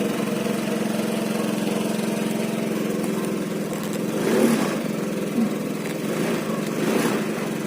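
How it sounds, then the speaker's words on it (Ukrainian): Fuel-injected Yamaha Gear scooter engine running steadily at idle nearby, a loud continuous buzzing drone with slight swells in revs, no talk. "заводиться без проблем з півтику"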